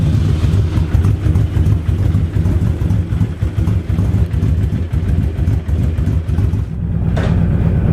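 A Honda motorcycle, customized to look like a Harley, runs steadily after a jump-start, its engine a loud, continuous low rumble that carries on alone throughout before briefly dipping near the end.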